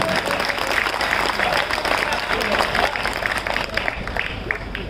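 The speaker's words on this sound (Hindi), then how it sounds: "वो राम, आपकी तालियां कमजोर है" A large audience at a revolutionary poetry gathering held for Veer Savarkar's birthday breaks into dense, sustained applause, loud and steady throughout with a faint voice mixed in and a slight dip near the end.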